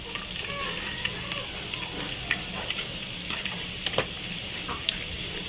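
Onions fry in a pan, browning with a continuous soft sizzle and scattered sharp pops and spoon ticks, fairly close and moderately quiet.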